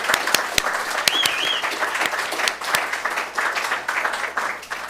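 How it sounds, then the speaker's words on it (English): A church congregation applauds warmly, with many hands clapping in a continuous wash and a few sharp nearby claps standing out, plus a brief whoop from the crowd. "So a big round of applause and love for Miss Chloe"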